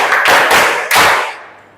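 A class of students in a mathematics lesson claps together in a rhythmic pattern. Three sharp group claps land close and loud, with a brief ringing tail after the last.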